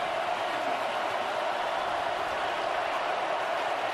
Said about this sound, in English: Band is playing, crowd is roaring.